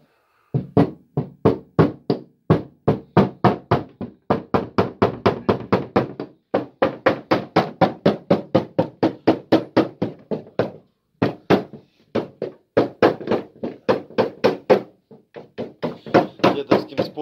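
A dent in a VAZ 2107 car door being hammered out by hand: long runs of rapid, loud metallic blows in steady rhythm, broken by short pauses, close and with no talk.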